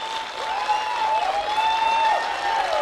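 An audience gives a burst of steady, dense applause that runs throughout, with tonal whistles or cheers cutting through the clapping.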